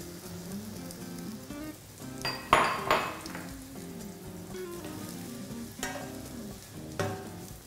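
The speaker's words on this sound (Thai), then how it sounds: "นำเห็ดที่หั่นแล้วนะคะลงไปผัดกับน้ำมันค่ะ" Sliced mushrooms sizzle and fry in oil in a pan while a utensil stirs and scrapes, with a few sharper clatters against the metal.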